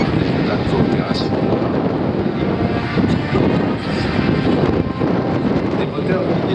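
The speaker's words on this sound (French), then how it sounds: "C'est un avion équipé de 4 turbopropulseurs qui sont les plus puissants jamais construits" Four TP400 turboprop engines on an Airbus A400M military transport roar in a steady, loud, broadband drone with wind buffeting, continuous and without a break.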